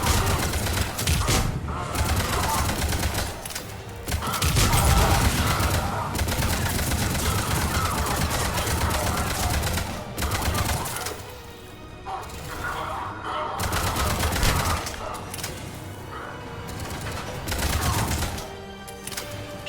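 Sustained gunfire in Mass Effect 3 during a firefight on Surkesh, dense bursts and heavy impacts running almost continuously, loud and close, with brief lulls and occasional voices in the mix.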